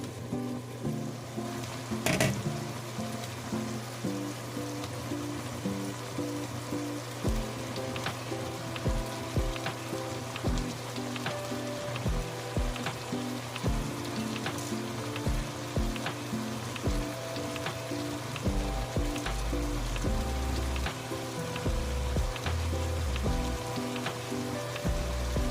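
Pork and carrots sizzle steadily in a pan, a close, continuous frying hiss with scattered crackles and pops and a few utensil clinks, no voices.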